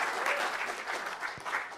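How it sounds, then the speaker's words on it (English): A brief burst of audience applause at a seminar, with steady crowd clapping throughout the short moment and no talk over it. "Let's give a round of applause."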